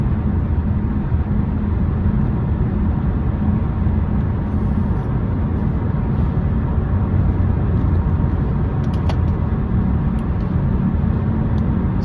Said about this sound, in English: hopefully this isn't too messed up with the road noise.